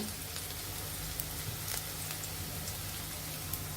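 Cinnamon, cardamom, chopped onion and green chilli frying in hot oil for a chickpea curry, giving a steady, dense sizzle with faint crackles throughout, close by and without talk.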